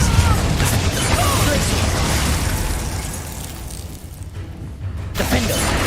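Confringo blasting spell exploding in Hogwarts Legacy combat near Cambridge, a loud sustained burst of fiery blasts and crashing debris that fades slightly before flaring again, with game noise throughout.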